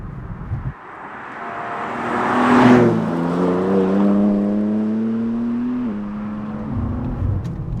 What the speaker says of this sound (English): Now I'm in D, in the lowest shift setting, it's in comfort, and it's just cruising along.